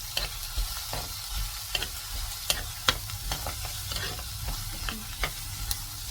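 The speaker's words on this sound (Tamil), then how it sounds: "வெங்காயம் பாருங்கள் நல்லா ப்ரௌன் ஆக ஆரம்பிச்சிருச்சு" Onions browning in a pan for mushroom gravy, with a steady soft sizzle and repeated sharp scrapes and clicks of a spoon stirring close by, no talk.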